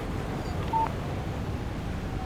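A text message alert sounds on a phone in the video game Alan Wake Remastered: one short electronic beep rising briefly above a steady, low background hum.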